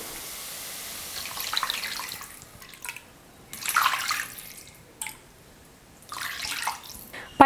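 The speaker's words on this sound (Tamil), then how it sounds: "இப்போ இந்த கப்பில் 3 கப் அளவுக்கு நான் தண்ணி சேர்த்துக்கிறேன்." Water poured into a pan for pineapple kesari, three cups measured in, a splashy running stream in bursts with pauses between pours, close and moderately loud.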